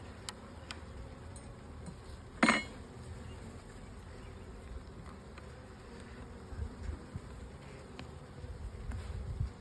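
Honey bees hum softly around an open backyard hive, a faint steady insect drone with a few brief clicks and one sharper knock partway through, no talking.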